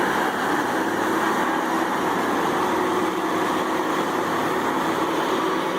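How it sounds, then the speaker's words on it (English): A Morbark 50-40 ATEX drum wood chipper runs with a steady, loud, dense mechanical roar and a broad hum that holds unchanged throughout, with no voices. "Next, the remarkable performance of the Moorbark 50-40ATEX wood chipper"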